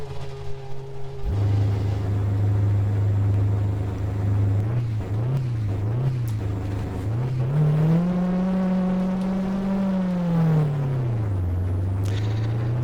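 A race car engine in the rFactor sim, set up as a 1990 Imola car, cranks and catches, then settles into a loud, steady idle. A few quick throttle blips follow before a longer rev rises and falls back.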